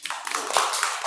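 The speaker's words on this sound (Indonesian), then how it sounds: "tepuk tangan untuk Azam dulu." Classroom applause in an Indonesian school lesson, a short burst of hands clapping from a group of students, close and busy, with faint voices mixed in.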